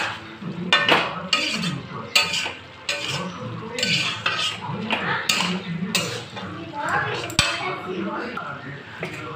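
A metal lid set onto a cooking pot of chana dal with cabbage, with repeated clanks and scraping clinks of cookware and stirring over a soft sizzle, fairly close.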